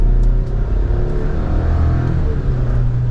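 A 2023 Chevrolet Colorado Z71 with a 4-cylinder turbo engine accelerates under throttle, giving a steady, loud, close engine drone heard from inside the cab, with no talking.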